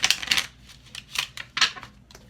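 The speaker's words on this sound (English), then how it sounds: "I'm going to do a horrible shuffle" A deck of tarot cards being shuffled roughly, giving several bursts of crisp riffling and card flutter, close and fairly quiet, with short gaps between the bursts and no talk.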